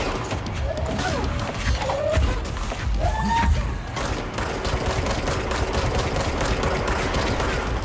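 Gunfire from the video game Control, a dense burst of rapid shots and thuds under steady game noise, with faint voices mixed in.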